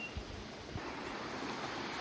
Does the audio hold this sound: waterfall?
yes